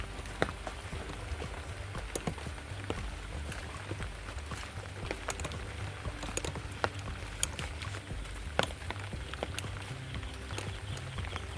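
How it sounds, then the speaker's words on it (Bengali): Steady rain pours down, a dense patter of drops on hard surfaces with occasional sharper drips standing out, continuous and close. "এত বৃষ্টি হচ্ছে"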